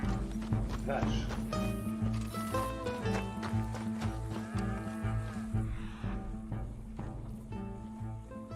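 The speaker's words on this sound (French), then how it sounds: "Vache." A cow moos in the Red Dead Redemption 2 video game, set against a busy game soundscape of steady background music, hoofbeats and someone talking throughout.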